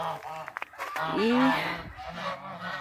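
Domestic geese honk close by in a farmyard, with a few nasal calls rising and falling against rustling movement, and someone speaking briefly at the start.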